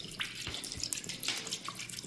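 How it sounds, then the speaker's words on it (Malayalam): Water pours into a container holding a phone, a soft close splashing trickle with a few quick drips and gurgles, faint and brief. "ഇനി അതിൽ ഫോൺ ഇട്ട് വെച്ചിട്ട് നമ്മൾ ഫുള്ള് വെള്ളം ഒഴിച്ചിട്ട് നമുക്ക് നോക്കാം."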